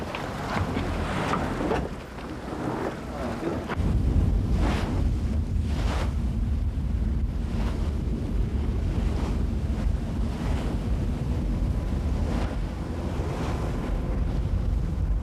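Ocean waves crashing against a rock wall at a coastal fishing point in rough weather, heavy repeated surges of surf under gusting wind noise, loud and close, with no talk.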